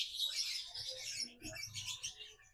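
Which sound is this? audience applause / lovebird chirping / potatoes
lovebird chirping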